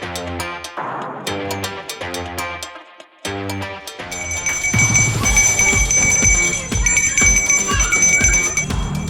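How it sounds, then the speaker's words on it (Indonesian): Small hand bell of a thermos ice cream vendor around Parung Panjang, Bogor, West Java, ringing in repeated bright bursts with brief pauses, then a denser stretch of ringing over a busier background. "Suara khas lonceng kecil milik para pedagang es krim termos di sekitar Parung Panjang, Bogor, Jawa Barat"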